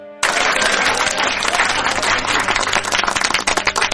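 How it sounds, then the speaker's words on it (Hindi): Loud, dense clapping and applause bursts in suddenly and continues steadily, like a crowd of hands clapping together close by. "एक पेड़ जो ताली बजाता था"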